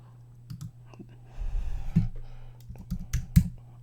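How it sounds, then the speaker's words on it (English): Keystrokes tapped out on a computer keyboard, a scattered run of light clicks with a brief busier burst midway, close and fairly quiet over a low steady hum. "I'm going to type in"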